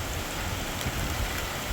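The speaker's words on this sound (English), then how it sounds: "It's been raining." Steady rain falls on a backyard container garden, a dense continuous patter that is close and fairly loud, with no talking.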